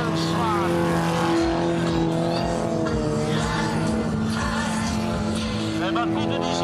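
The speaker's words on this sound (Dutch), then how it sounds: "En de autootjes die krijgen het zwaar." Small cars race at a Vloddercross event, engines buzzing and whining loudly and continuously, with a commentator talking over them.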